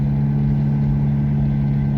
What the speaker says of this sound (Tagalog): kasi kargado tayo ng tao kaya medyo hirap na hirap talaga yung makina ayan oh